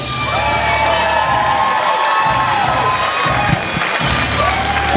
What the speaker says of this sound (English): Please put your hands together for your compere this evening, Mr. Brennan Reese.